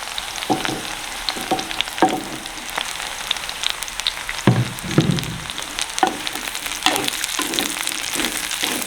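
Onion sautéing in oil with garlic, green chilli and curry leaves for a village-style fenugreek curry, a steady close crackling sizzle with repeated spatula scrapes and taps throughout, no voices.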